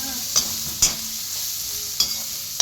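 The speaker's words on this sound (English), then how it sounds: "I start with carrots. Yeah, and give it a quick stir." Carrots and mixed vegetables frying in a pan for homemade spring rolls, a continuous sizzle broken by a few sharp scrapes and knocks of a utensil stirring them.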